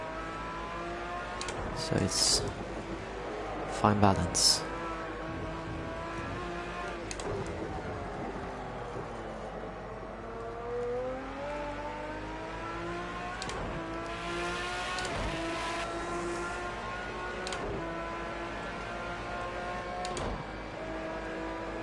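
A race car engine in a racing video game at Oschersleben drones and revs, pitch climbing and falling repeatedly, with a voice speaking briefly over it and a few sharp clunks.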